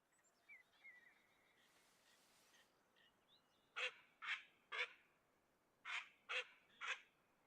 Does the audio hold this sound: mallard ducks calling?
yes